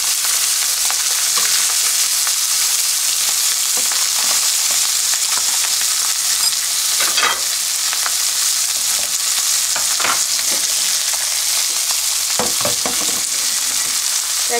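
Gizzard shad fish frying in a pan, a constant, close, crackling sizzle with occasional sharper pops and spatters and no voices.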